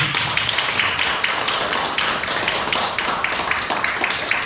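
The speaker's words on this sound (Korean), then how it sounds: "박수 한번 주세요." An audience at a church testimony gathering claps in a steady burst of applause, dense rapid hand claps sustained throughout at even loudness.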